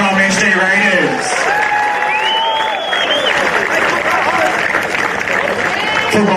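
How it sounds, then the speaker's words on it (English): A crowd applauds and cheers the Stanmore Hawks and SD Raiders after an NPL 3 NSW football grand final, with an announcer's voice and whistling tones running over the steady noise. "Both teams deserve a round of applause to our runners-up and also our premiers Stanmore Hawks and our champions today from SD Raiders"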